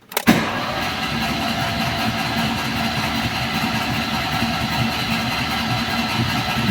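A 34-year-old Alfa Romeo 33, unrun for 23 years, cranks with its spark plugs removed after oil was injected into the cylinders: a sharp click, then a steady, loud, even whir that runs on without firing.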